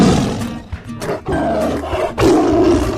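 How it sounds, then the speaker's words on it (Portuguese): A tiger roaring, loud and close, in a few rough bursts of growling roar separated by short pauses, with no other sounds around it. "tigre"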